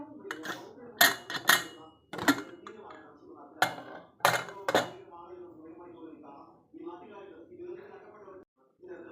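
Metal clanks and clinks as a pressure cooker lid is handled and opened after cooking a kurma, several sharp knocks spaced out while someone talks throughout.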